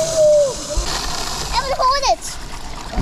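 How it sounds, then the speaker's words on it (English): Water splashes in a backyard pool as water balloons are thrown at toy boats, close and fairly loud, with children's voices talking and squealing over the sloshing. "Now it's time to fill up some water balloons, and Emily's going to throw them at the boat"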